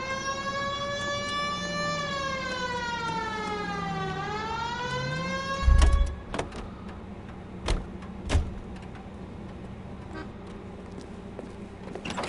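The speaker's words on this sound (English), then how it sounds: "Hit the siren." A police car siren wails in the 1940s Los Angeles detective game L.A. Noire, rising and falling loudly for several seconds before cutting off, followed by a thud and scattered car noises.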